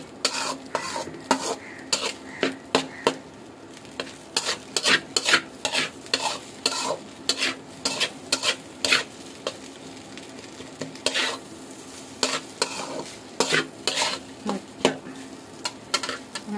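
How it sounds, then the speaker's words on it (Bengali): Chicken fried rice stirred in a pan with a spatula or spoon, rapid irregular scraping clacks over a soft background sizzle, close and loud, continuing in bursts throughout. "এটা পুরোটার মধ্যে দিয়ে নাড়াচাড়া করে নিব"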